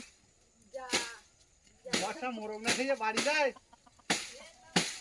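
Chickens clucking in a sugarcane garden, with short bursts of clucks and calls scattered through and someone talking over them.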